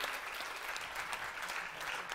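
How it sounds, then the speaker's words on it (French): Audience applause at a live comedy-variety show in a theatre hall, a steady wash of many hands clapping at moderate, even loudness, fairly distant and uninterrupted. "On peut l'applaudir, il en a besoin."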